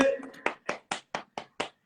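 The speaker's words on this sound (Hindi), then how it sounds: "मैं तालियां बजा रहा हूँ" A man claps his hands six times in a steady, evenly spaced rhythm, each clap sharp and close, following a brief bit of voice at the start.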